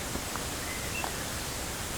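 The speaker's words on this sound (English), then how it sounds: "arriving at the big waterfall" Big waterfall rushing as a steady, broad hiss of falling water, constant and even throughout with no breaks, fairly quiet and heard alone without talk.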